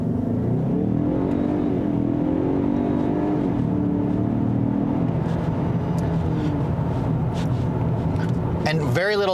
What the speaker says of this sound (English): We'll try accelerating hard from a stop here.